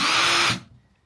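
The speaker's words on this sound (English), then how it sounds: "I have 1, and it sounds like this." A cordless drill on speed setting 1 whirs at a steady high pitch for about half a second, then spins down and fades to quiet.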